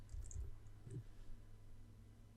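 Soft keyboard clicks as first names are typed into an Excel spreadsheet on a computer, a few quiet taps in a cluster over a low steady hum, then fading to near stillness.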